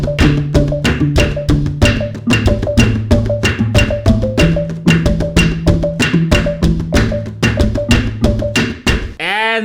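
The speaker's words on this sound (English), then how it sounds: "That's how you play an Afrobeat on the djembe." An Afrobeat rhythm is played on a djembe over backing music, with sharp slaps and deep bass tones striking in a steady, repeating groove. It is loud and close, with a brief swirling sound at the end.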